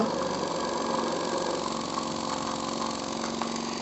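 A miniature live steam engine, a 5 cc copy of a Stuart D10 built for a steam boat, runs steadily, giving a continuous, even, close-up mechanical churn that holds at the same level throughout.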